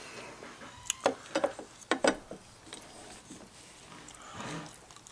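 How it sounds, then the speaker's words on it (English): An armorer's wrench ratchets a castle nut tight on an AR-style rifle buffer tube during a 6.5 Grendel build, giving several sharp, close metallic clicks and clunks in a short burst, then quieter handling. "Take your castle nut, tighten that up. Then you just take your armor's wrench"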